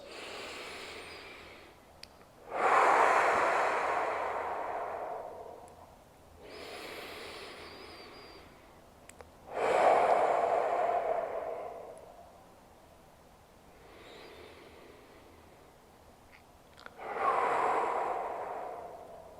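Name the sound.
slow deep breaths during jaw massage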